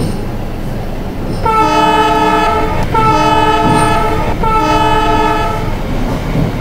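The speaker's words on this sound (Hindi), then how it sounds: "कितना हॉर्न बजाएगा" A locomotive horn in the Trainz Simulator 12 game, on an Indian Railways double-decker express during shunting duty, sounds three long, loud, chord-like blasts in a row over a steady rumble of the running train.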